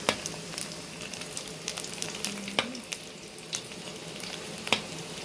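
A batch of snakehead fish frying in hot oil, a continuous crackling sizzle with frequent small spits and pops, fairly close and without talk.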